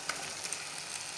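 Masala spices frying over a high flame for chicken changezi give a steady, close hiss of sizzling oil with a few faint clicks. No one speaks.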